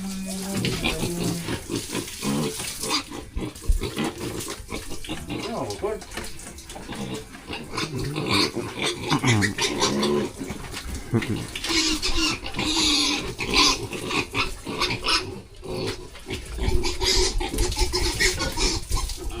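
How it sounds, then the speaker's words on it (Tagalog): A large pig grunts and squeals close by in a pen, with irregular bursts of snorts and shrill cries over splashing water and scattered voices. "Ano sabi ng baboy?"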